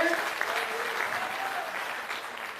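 Applause welcoming a guest at a Gosai community gathering in Bihar, a steady, moderately quiet wash of many hands clapping together with faint voices underneath.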